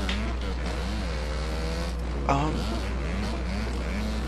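Dirt bike engine in the racing game MX vs ATV Alive on the Quarry Basin track, a buzzing motor whose pitch climbs and falls as it revs through corners, steady and close, with a voice talking over it.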